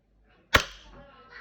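A single sharp snap from a custom Tokyo Marui Hi Capa airsoft pistol firing a 0.2 g BB through a chronograph, a close, crisp pop with a short decaying tail in a quiet room.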